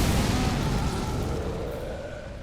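A deep explosive boom from a legendary armament attack in Elden Ring, loud and broad at the start, then rolling off into a steadily fading rumble.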